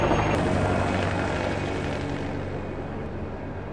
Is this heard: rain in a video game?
no